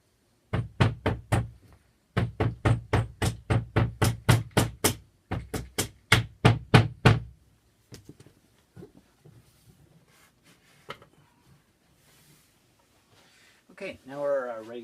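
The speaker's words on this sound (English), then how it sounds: "Using a rubber mallet, just lightly tap the bolts through the holes to ensure that they go all the way through" A rubber mallet taps bolts through the holes of a wooden sliding barn door, giving a steady run of sharp knocks in three quick bursts over several seconds, then near quiet, with a brief voice at the end.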